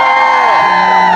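A crowd of spring supporters cheers loudly and steadily, a dense wash of voices and whoops held for about a second without a break.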